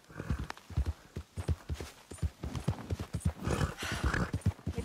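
Horse hooves clip-clop at a steady riding pace in Red Dead Redemption 2, a rhythmic run of muffled thuds on dirt, close and moderately loud, with no talk over them.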